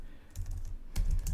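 Quick bursts of computer keyboard typing, a short run of keystrokes then a louder cluster of clicks, close and alone without talk.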